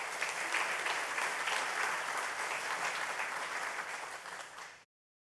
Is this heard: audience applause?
yes